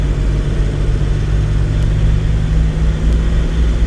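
A car engine pulls steadily uphill while accelerating up a grade, a constant low droning hum with a broadband road rumble that holds loud and even throughout, no voices over it.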